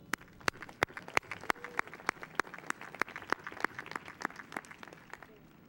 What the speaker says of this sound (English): Let's give a strong round of applause for our class of 2015